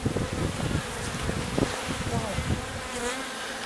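Honey bees swarm around a new hive one week after the swarm was captured, a dense steady buzz close to the microphone with wind rumble underneath.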